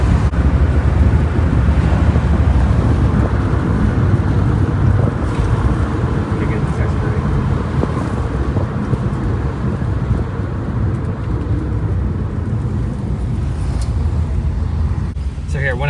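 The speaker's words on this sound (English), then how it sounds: "this thing drives so much better with the steering wheel not flopping around on me" A 1975 Chevrolet Monza with a 350 V8 drives on the road, a steady low engine and road rumble with wind buffeting the microphone, and someone talking over it.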